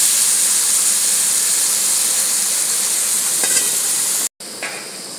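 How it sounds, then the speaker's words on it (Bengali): Prawns frying in oil for a yogurt prawn curry give a loud, steady broadband sizzle and hiss that runs unbroken, cut by a brief silent gap near the end before resuming, with a few faint clinks. "যতক্ষণ আমার এই চিংড়ি মাছটা ভাজা হচ্ছে"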